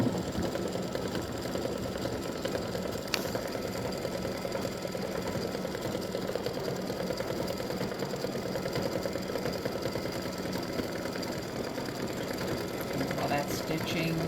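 An embroidery machine test-stitches a Halloween witch and spiders design, a steady close mechanical hum and rapid needle rhythm running without pause, with talk faintly under it.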